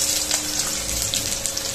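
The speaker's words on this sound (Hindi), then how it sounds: "नल भी खुल गया" Water tap running in a home kitchen, a steady close gushing stream with a faint mechanical hum beneath it, no talking.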